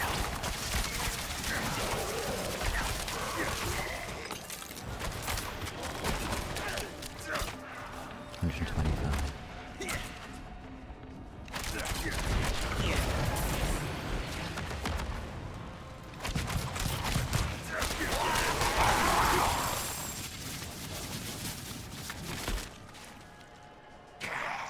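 Explosions and combat blasts from the Diablo 4 video game, Season 5 with a Heartseeker Rogue, booming in dense, overlapping bursts through the whole stretch, with someone talking over the gameplay.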